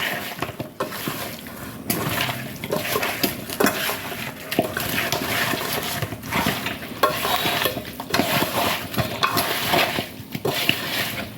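Chicken mandhi marinade being stirred and mixed with coriander, mint and curry leaves: a steady wet squishing and clicking of spoon against bowl, continuous and close, with no talk.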